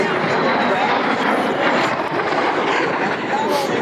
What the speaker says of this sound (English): it remains the fastest straight-wing, single-engine jet airplane in the world with a top speed of 599 miles per hour